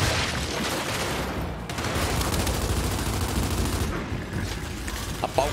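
Loud, dense bursts of automatic gunfire in Gears 5 roll on continuously, with booming impacts mixed in and a brief dip in the middle before the shooting resumes.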